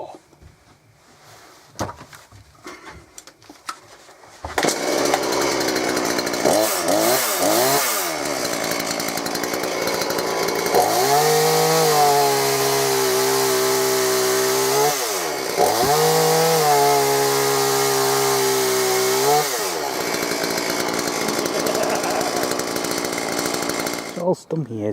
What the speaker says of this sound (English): Time to give the chainsaw a test on it.